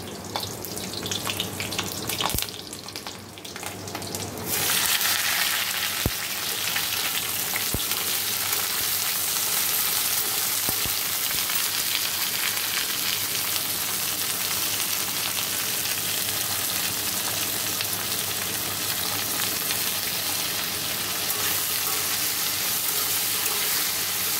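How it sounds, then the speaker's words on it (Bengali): Black cumin seeds and green chilies sizzle steadily in hot oil in a wok, a loud continuous frying hiss that swells after a quieter start and holds evenly, with faint kitchen clatter. "কালো জিরে কাঁচা লঙ্কা ফোড়ন দেবো।"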